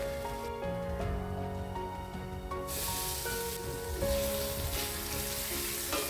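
Onion, green chili and paneer fry in a pan with a steady, close sizzle and occasional stirring scrapes, with background music playing throughout.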